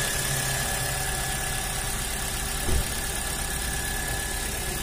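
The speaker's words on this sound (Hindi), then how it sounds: "ये देखिए फ्रेंड्स, कितनी अच्छी साउंड है इंजन की।" Maruti Suzuki Swift petrol car engine, just repaired after an overheating problem with fresh oil added, idles in a steady, close low hum with one brief thump near the end and no talking.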